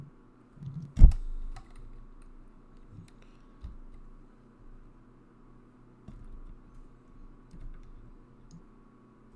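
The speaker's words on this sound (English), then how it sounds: "I am gonna type them in." Keys tapped on a computer keyboard, starting with one loud knock and then sparse, soft clicks spread over several seconds in a quiet room.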